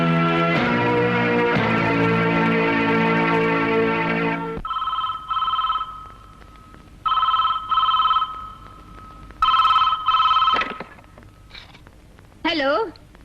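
A telephone rings in a Hindi police-versus-mafia action film, sounding in repeated paired bursts of electronic trilling with pauses between, following a stretch of loud music and shouting.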